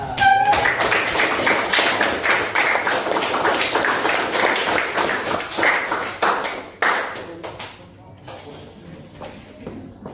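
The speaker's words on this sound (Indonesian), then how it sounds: "Yuk kita kasih tepuk tangan kita." A small group claps together in a room, at first loud and dense, then thinning into scattered separate claps before it stops.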